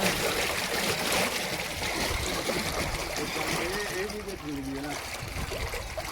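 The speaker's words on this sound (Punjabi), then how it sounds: "ਦੇਖ ਲਓ ਕਿੰਨਾ ਪਾਣੀ ਖਰਾਬ ਆ ਰਿਹਾ" Dirty water gushes and trickles out of a village water supply tank during a cleaning, a continuous nearby rushing flow, while people talk over it.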